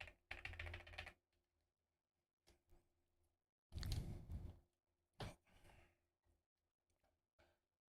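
Bursts of typing on a qwertykeys QK75 mechanical keyboard fitted with ABS plastic keycaps, close and fairly quiet, arriving in several short clusters separated by pauses.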